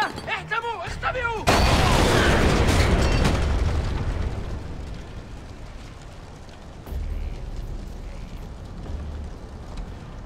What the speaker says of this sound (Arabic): قنبلة، احتموا، اختبئوا.